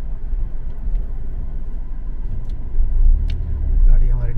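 Car passing through a FASTag toll plaza on a Delhi expressway, CNG-fuelled, with steady low road rumble and engine drone that swells briefly as it pulls away; no talk is heard.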